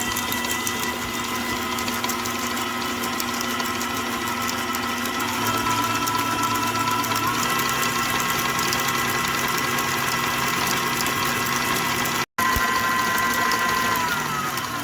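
An electric mixer beats a batter of one whole egg and molasses for ginger cookies, a steady loud motor whir running continuously with a brief cut-out near the end.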